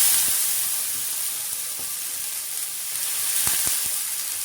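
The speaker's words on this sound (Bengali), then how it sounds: "জলের ছিটা দিয়ে দিলাম।" Water splashed onto a hot iron griddle (chatu) sizzles in a steady broad hiss with a few sharper crackles, close and continuous, with no talk.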